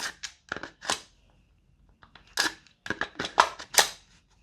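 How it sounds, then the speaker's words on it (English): An Amarok airsoft rifle magazine is pushed into the magazine well of an HK416A5 rifle fitted with a Wolverine MTW kit, giving a series of close, sharp plastic-and-metal clicks and knocks in short bursts with brief pauses between them. "the Amarok mag goes in just fine as well"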